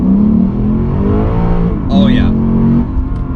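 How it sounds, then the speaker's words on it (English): A 2023 Lexus RC F Track Edition V8 pulls hard under acceleration from inside the cabin, a steady rising engine drone with a brief sharper whine midway, while a voice speaks over it. "That is where this car shines, is accelerating, and just hearing that engine, it really does sound good in here"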